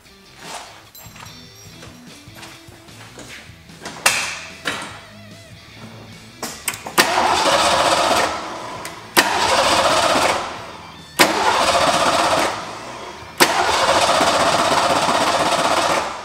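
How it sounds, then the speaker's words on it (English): A 1989 Ford Mustang GT engine cranks over during a compression test, with the starter churning in several loud, rhythmic bursts that are separated by short pauses and heard up close, with no talking. "Let's give it a crank."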